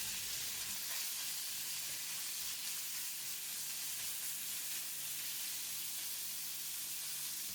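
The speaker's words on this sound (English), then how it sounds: "Next, add in all the minced pork. Give it a stir to mix with the oil." Minced pork sizzles and fries in hot garlic oil in a pan while being stirred for mapo tofu, giving a steady, dense hiss with no break from start to finish.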